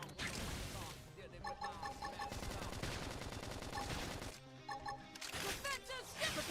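Rapid cannon and grenade fire in the Xenoblade Chronicles X battle game, dense bursts of blasts and crashes with overlapping effects, loud and continuous.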